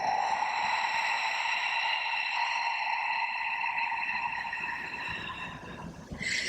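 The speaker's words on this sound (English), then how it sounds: "So it's almost like this little whisper of a breath." One long, even ujjayi breath is drawn through a constricted throat, a close, soft, whisper-like rush that holds steady and then tapers off near the end, with no talk.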